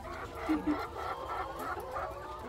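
Laying hens on a farm cluck softly and continuously, several birds murmuring together at moderate distance with a few slightly louder calls.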